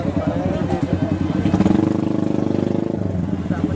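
Motorcycles, including a chopper, rev at an outdoor plaza gathering, with a loud, close engine that pulses rapidly and rises in pitch midway before settling, while people talk nearby.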